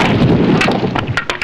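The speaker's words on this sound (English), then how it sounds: "Aerosols may be cheap, but in a fire, they can explode." Aerosol can bursting in a house fire: a roaring crackle followed by several sharp, loud explosive cracks in quick irregular succession, close and without speech.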